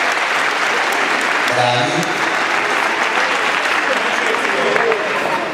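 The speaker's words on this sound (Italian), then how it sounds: "Bello applauso." Sustained applause from an audience at a judo event, steady clapping throughout with a voice speaking briefly over it.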